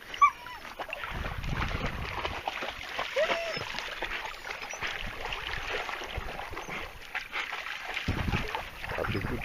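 A dog swims and splashes in the water of a tarn, with irregular close splashing, sloshing and occasional whimpers, while people talk nearby.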